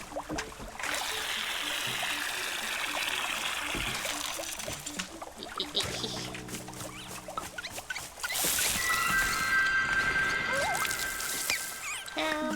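Water trickles and patters steadily in the cozy garden game Wanderstop, a soft continuous flow running under layered game music and chimes for most of the span.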